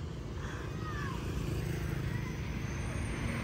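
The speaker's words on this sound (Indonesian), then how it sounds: "Nah, ini bisnya datang." A bus pulls in and maneuvers at a stop on the Sitinjau Lauik road near Padang, its engine a steady low rumble with broadband road noise throughout, fairly close and continuous.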